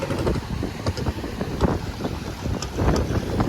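Strong wind sweeping across Veraval harbour among moored fishing boats, a continuous rushing roar with gusty surges and microphone buffeting, heard alone without talk.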